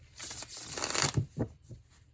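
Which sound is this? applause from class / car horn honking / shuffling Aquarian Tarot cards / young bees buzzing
shuffling Aquarian Tarot cards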